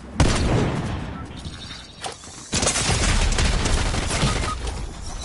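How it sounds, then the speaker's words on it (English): Dense video game gunfire in the Tiger Hunt mode, loud close bursts and rattling volleys broken by a brief lull, then sustained shooting. "I'm gonna keep shooting."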